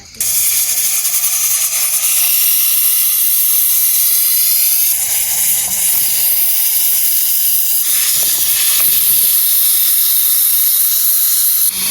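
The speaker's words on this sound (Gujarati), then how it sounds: "તો આપણે મસ્ત મજાનું એવું કુકર ચૂલા પર મૂકી દીધું છે ને હવે છે ને 2 થી 3 સીટી પાડવાની છે આપણે" A steady, loud hiss of escaping steam runs nearly the whole time, like a pressure cooker venting on a stove, with slight shifts in intensity.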